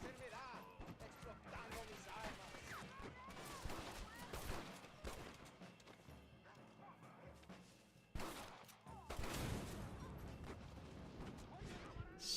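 Rapid bursts of gunfire in Red Dead Redemption crackle over busy game audio and background music, with sharp loud volleys near the end.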